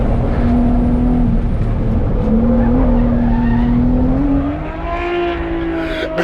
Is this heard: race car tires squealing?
yes